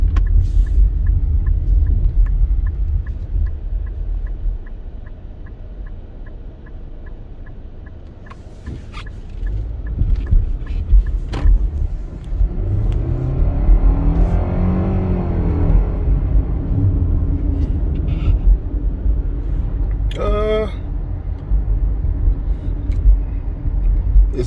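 A 2021 Nissan Rogue S accelerates from inside the cabin, a steady engine drone rising in pitch over continuous road and tire rumble, with a few brief clicks and thumps.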